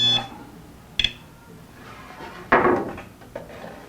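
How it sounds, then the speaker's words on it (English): A handheld metal detector scanning shop wood for hidden metal gives two short, sharp electronic beeps, followed by a louder rustling, scraping burst and a faint knock close to the microphone. "I've got my metal detector here, and it'll scan for, see, metal"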